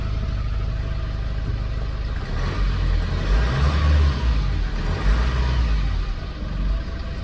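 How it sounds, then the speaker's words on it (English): A VW LT35 2.5 TDI diesel van engine starts and runs after a repair, a steady low rumble that swells briefly mid-clip, close and loud with no talking. "Doesn't sound bad. Definitely doesn't sound bad."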